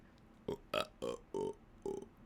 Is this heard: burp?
yes